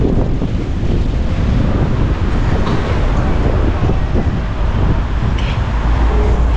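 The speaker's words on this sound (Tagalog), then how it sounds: "Ang lakas ng hangin." Strong wind roaring and buffeting the microphone continuously, loud and steady, with faint background noise underneath.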